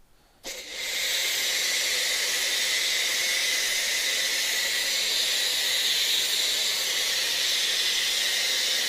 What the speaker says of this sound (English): we'll attach our snow foam lance. And apply the product.